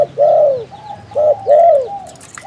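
A wild dove coos close by in a rocky mountain area, several soft, rounded hooting notes in a slow repeating phrase against quiet background.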